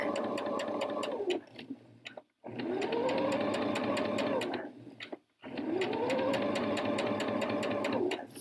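A sewing machine runs in three long steady bursts while stitching the straight back seam of a Florence jacket, each run stopping briefly before starting again; the motor hum is close and even, with no talking.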